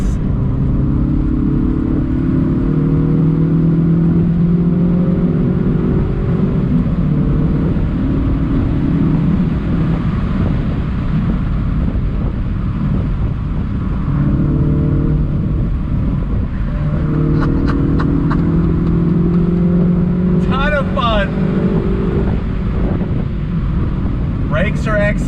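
A 2021 Mini Cooper S convertible with a six-speed manual accelerating on throttle, its engine note rising through the gears with a gear change midway, loud wind rush throughout and voices talking over it.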